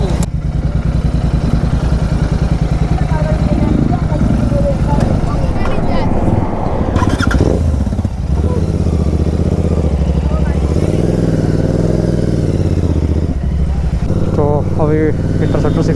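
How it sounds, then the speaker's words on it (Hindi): A Royal Enfield Interceptor 650 motorcycle fitted with an aftermarket exhaust thumps along at a steady, loud engine drone throughout the ride, with someone talking over the engine noise. "अभी इंटरसेप्टर 650 इसको राइड कर रहा हूँ, नया बाइक अपना स्वास्थ्य जाएगा जिसमें एग्जॉस्ट लगाए।"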